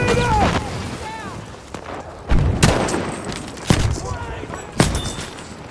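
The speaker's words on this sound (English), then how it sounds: "Grenade!" Battlefield V combat, with several heavy booms and bursts of gunfire rolling over one another, loud and close, and a voice shouting among the blasts.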